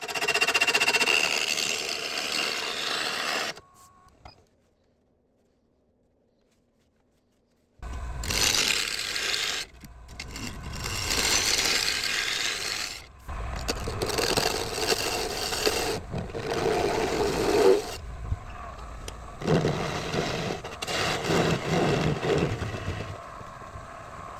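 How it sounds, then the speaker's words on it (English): Wood lathe roughing a wooden blank into a cylinder for a keepsake urn, loud scraping and whirring in long bursts separated by a few seconds of silence and short breaks. "I'm going to start by just roughing out this blank and getting it completely cylindrical."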